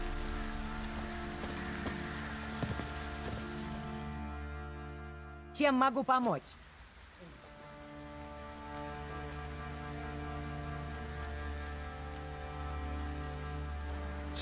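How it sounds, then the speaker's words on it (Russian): Soft, steady rain patters in the background of The Witcher 3 video game beneath a droning music bed, with a brief burst of voice partway through. "Это планетники нам дождь посылают."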